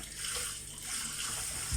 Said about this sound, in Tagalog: Babad ko muna sa mainit na tubig bago sabunin.